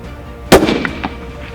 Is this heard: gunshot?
yes